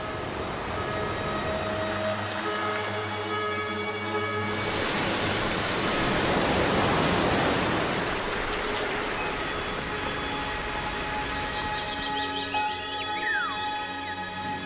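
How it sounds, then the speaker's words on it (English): Rushing water from waterfalls on Roraima, a dense steady roar of falling water that swells slightly midway, continuous and fairly loud, with faint bird calls near the end. "This is the origin of the rain, which rushes down in countless waterfalls."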